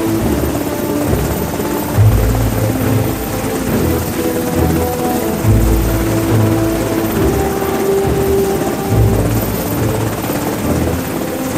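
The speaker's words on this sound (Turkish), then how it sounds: "bugün bu helikopterdeyim ya" A helicopter in flight roars loudly and steadily from very close, its rotor chop pulsing throughout with a sustained engine drone and no talking.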